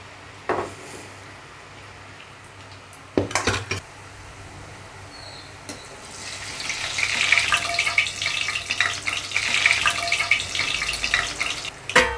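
Sev dough for a Maharashtrian snack is pressed into hot oil and begins to fry: after a few faint clinks, a loud hissing sizzle rises and keeps bubbling steadily up close.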